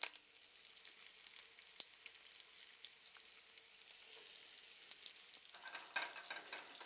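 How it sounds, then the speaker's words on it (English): Meat sizzling and frying in grease in a pan, a steady quiet crackle with occasional louder pops, heard alone without talk. "only thing to do now is cook the meat. I'm just going to lay them in there nice and soft."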